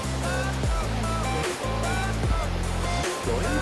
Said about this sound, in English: You can hear the wonderful river.